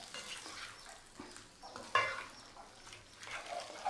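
Chicken meat for Chittagong-style kala bhuna being stirred with poured-in spices in a pan, a soft continuous scraping and mixing with a faint sizzle and one sharper clink partway through, fairly quiet.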